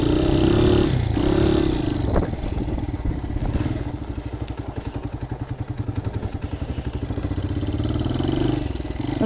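Dirt bike engine holding steady in third gear on slippery, wet ground, a loud continuous motorcycle drone with a rapid pulsing rhythm and occasional thumps and clatter from the terrain.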